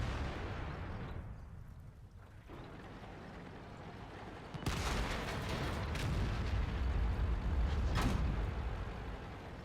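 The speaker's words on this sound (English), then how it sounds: "Listen to the lovely new ricochet sound effects" Tank shells ricocheting off armor in World of Tanks, update 8.6, during a battle with artillery around: sharp impact bursts from about the midpoint onward over a steady game rumble, with no talk.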